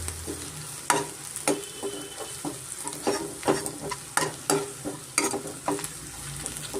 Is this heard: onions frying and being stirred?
yes